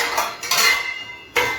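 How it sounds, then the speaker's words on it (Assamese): A boiled egg is set onto a plate, giving a couple of bright clinks and scrapes of dishware, close and crisp in a quiet kitchen. "কণীটো এটা প্লেটত দি দিওঁ"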